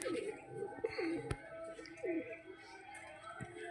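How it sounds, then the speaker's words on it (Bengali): Soft, repeated cooing comes from a female Giribaz pigeon, with short falling notes at close range, mixed with someone talking and a sharp click partway through. "এই যে হচ্ছে পায়রা"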